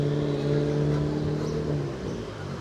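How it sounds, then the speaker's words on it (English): A small Fiat 500 car with a noisy, peppy engine drives past on a town street in Can Pastilla, Majorca, its steady mid-pitched engine hum fairly close and continuous, fading slightly toward the end. "Nice little noisy peppy engine."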